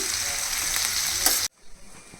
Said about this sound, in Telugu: అన్నీ వేసుకుని ఇవి కొంచెం గోల్డెన్ బ్రౌన్ కలర్ వచ్చే వరకు ఫ్రై చేసుకోవాలి